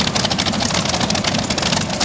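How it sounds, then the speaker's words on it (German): Modified tractor-pulling machines at a Krumbach pull run their engines, a loud, rough, continuous roar with a heavy low rumble and no talk over it. "Okay, laufen doch beide Motoren."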